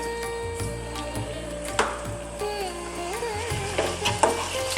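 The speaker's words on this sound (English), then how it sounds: "on a medium heat, just want to fry these around kind of gently" Spices and fresh chili fry gently in a pan over medium heat while a utensil stirs and scrapes, with a low background hum and no talking.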